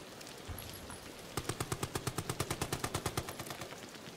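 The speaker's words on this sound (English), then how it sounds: "shooting gun bullets" A gun in Amnesia: The Bunker fires a steady burst of about fifteen evenly spaced sharp shots, close and punchy, after a quiet, noisy lead-in.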